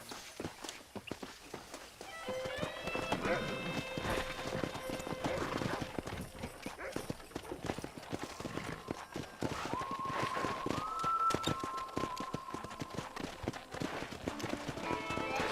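Horse hooves clip-clopping in the Western video game Red Dead Redemption on Xbox 360, a steady galloping patter under game music, with a horse whinnying and characters talking over it.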